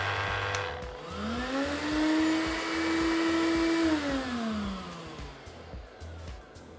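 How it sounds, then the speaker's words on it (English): A Festool CTMC MIDI dust extractor motor spins up alongside a sander, its whine rising in pitch, holding steady for a few seconds, then winding back down, fairly loud and close with no talking. "The extractor has now switched on"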